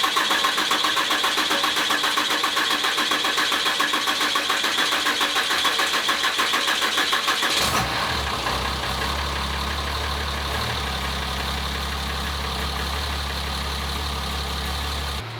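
A diesel longbed truck build with a street CP3 pump cranks with a loud, rapid, rattling starter whir, then catches on first fire and settles into a steady, deep, close idle rumble.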